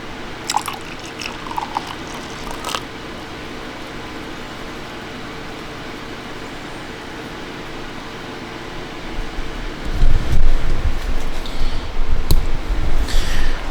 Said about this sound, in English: let's pour this in here